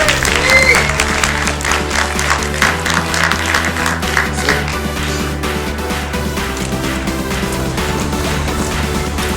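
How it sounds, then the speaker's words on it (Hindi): Loud, sustained applause from an event audience welcoming the actor Govinda on stage, a dense wash of clapping that holds steady for the whole stretch with a faint musical bed beneath it. "गोविंदा जी के लिए जोरदार तालियां।"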